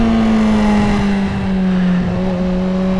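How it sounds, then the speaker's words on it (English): Steady engine drone from a Kawasaki 636 motorcycle on the road, loud and continuous with a sustained tonal whine and a rattling windscreen buzzing through it, no talking. "God, I forgot how obnoxious the windscreen rattle was on this"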